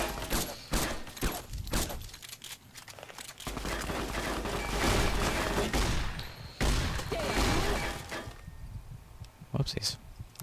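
Gunfire in the game Fallout New Vegas crackles in bursts and volleys, with sharp shots and rapid fusillades, loud and close, while someone talks over it.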